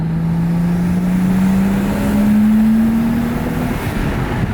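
Nissan Skyline engine pulling hard from third gear, a loud, steady rising drone whose pitch climbs smoothly for several seconds before levelling off, close and alone without talk.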